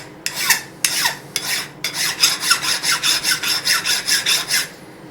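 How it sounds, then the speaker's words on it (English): Hand file cutting a 45 degree chamfer on a part edge, three slow separate rasping strokes followed by a quick run of about a dozen even back-and-forth strokes, close and crisp with no talk. "you begin by filing a 45 degree chamfer like this"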